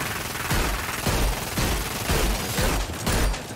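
Rapid automatic gunfire in the online shooter Hyper Scape, a loud, steady stream of shots with regular bursts of emphasis, continuous and up close, with no voices.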